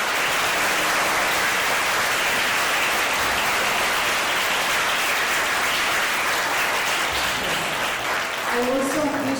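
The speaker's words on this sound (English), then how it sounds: "let us give a big clap for the whole class" Applause for a class at a special school assembly, a continuous blurred wash of clapping from a large group, steady throughout with faint voices beginning near the end.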